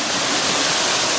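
Rushing river water at the Champagne River falls in Saint Ann, Jamaica, a loud, continuous broadband roar of tumbling water filling the whole moment with no talk over it.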